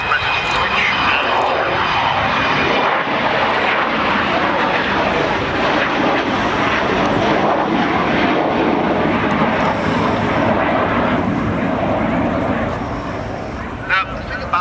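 An Avro Vulcan bomber at the RIAT 2010 air display makes a loud, continuous jet-engine roar as it flies past, fading slightly near the end, while a commentator talks over it.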